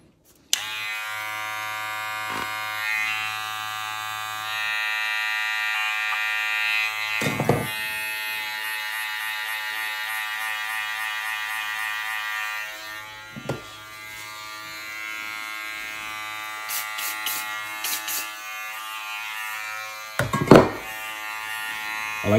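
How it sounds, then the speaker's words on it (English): Modded Wahl Senior hair clippers with a Master blade run with a steady, loud electric buzz and dense harmonic whine, briefly interrupted by a few clicks and thumps as they are handled. "All right, that's the feel. Let's turn them on. They even sound the same."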